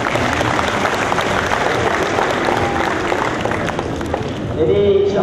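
An audience at a university forum claps steadily for several seconds, a broad wash of applause with a few voices mixed in near the end.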